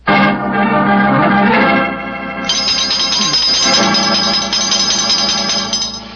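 A loud, sustained electronic bell tone rings continuously, shifting to a higher, brighter chime partway through, close and without pauses.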